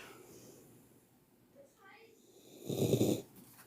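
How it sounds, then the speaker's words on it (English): A dog named Bowser, recovering after vet care, snoring softly while resting, one faint breath then a louder rasping snore near the end, close by with quiet talk around it. "You guys hear him snoring?"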